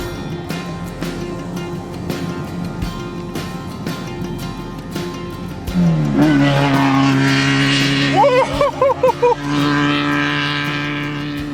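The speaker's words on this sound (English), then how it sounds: "I can hear a lot of different engines in the background." Racing engines roar near the Mint 400 off-road desert race course, a steady engine drone giving way to a louder, close vehicle passing with rising revs and several sharp pitch swings, loud and close.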